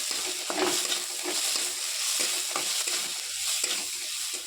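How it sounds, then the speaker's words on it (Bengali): Ginger paste, garlic and green chillies fry in a pan with a steady, close sizzle, broken by a few soft stirring scrapes and taps. "এবার আদা আমি ভালো করে ভেজে নেবো"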